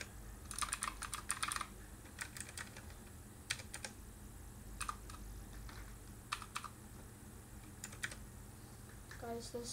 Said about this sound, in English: And this is the keyboard.